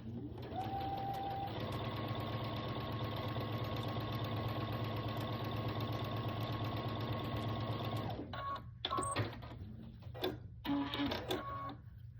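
A sewing machine stitches a quarter-inch quilt seam on a crazy quilt, running steadily for about eight seconds before stopping, followed by a few short bursts and handling clatter, close and clear with no talking.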